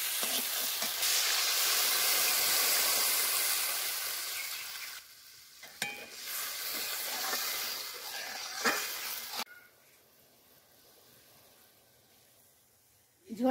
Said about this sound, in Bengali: ঝোল আমাদের ফুটে গেছে